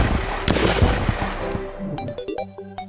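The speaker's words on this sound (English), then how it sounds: "the Onyx Blaster shotgun." The Onyx Blaster shotgun fires in Terraria modded to look like Doom, giving a heavy booming blast with a decaying noisy tail, followed by ringing metallic tones from the game.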